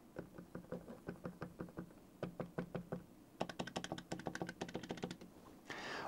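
Buttons on an EasySMX X05 gamepad pressed in fast runs of crisp clicks, close and quiet, a slower series followed by a denser rapid burst.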